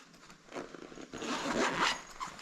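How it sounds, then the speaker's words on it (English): Zipper on a handmade bicycle frame bag being pulled, a quiet close ripping zip in a couple of uneven strokes, no talk. "Here's the bottom zipper."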